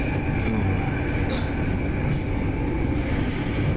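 A passenger train riding between The Hague and Amsterdam rumbles loudly and steadily from inside the carriage, a constant roar of wheels on rails with faint clatter.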